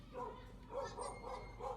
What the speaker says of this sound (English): A gang of dogs are gathering here.